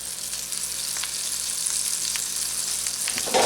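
Buttered Reuben sandwiches frying on a Blackstone griddle over medium-low heat, a steady bright sizzle with occasional small pops, close and continuous, no voices.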